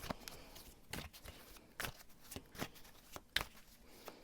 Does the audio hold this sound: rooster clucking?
no